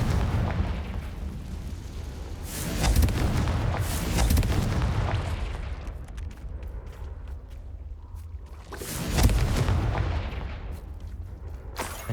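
Confringo blasting-spell explosions in the Hogwarts Legacy video game: two heavy booming blasts, one near three seconds and another near nine, each swelling over a dense rumbling bed of game sound.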